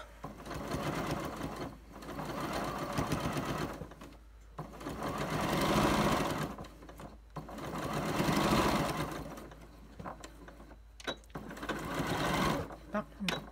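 A sewing machine stitches a fabric face mask in rapid, rhythmic bursts separated by short pauses, close and clear, with someone speaking at times between runs.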